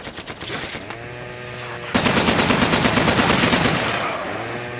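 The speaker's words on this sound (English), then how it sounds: "Shoot him quickly." Rapid automatic gunfire rattles loudly in a shooter video game, with a short burst followed by a longer sustained stream of shots over a low electronic hum.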